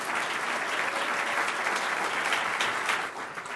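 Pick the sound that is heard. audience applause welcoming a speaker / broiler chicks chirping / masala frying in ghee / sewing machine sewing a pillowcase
audience applause welcoming a speaker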